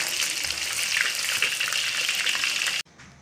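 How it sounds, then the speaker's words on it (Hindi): Pieces of fish fry steadily in hot oil, a dense crackling sizzle that carries on alone for nearly three seconds before cutting off to a fainter hiss. "इसी तरह ही मैं सारी फिश फ्राई कर लेती हूँ"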